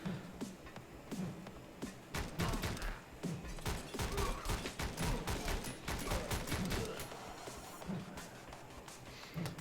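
Gunfire in the video game Canabalt with Guns comes as rapid bursts of shots and bangs, dense and continuous across the clip with thuds and crashes mixed in, loud and close.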